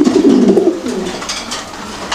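A fancy pigeon for sale at a bird market gives a loud, close, low coo that fades into quieter rustling and faint background noise.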